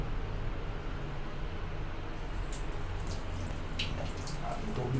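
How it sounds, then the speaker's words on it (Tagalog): Water runs in a steady, broadband hiss that continues unbroken throughout, close and fairly loud. "Tubig na shower."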